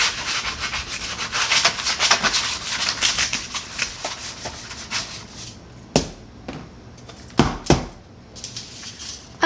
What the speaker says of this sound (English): take this sanding block and sand off this glitter on these snowflakes